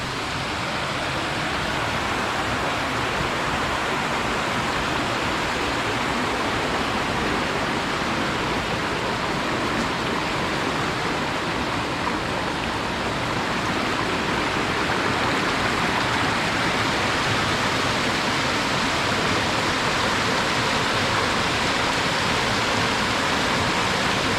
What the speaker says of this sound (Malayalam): പിന്നെ നമ്മൾ ഈ വന്നേക്കുന്ന ഈ അരുവിയാണ്.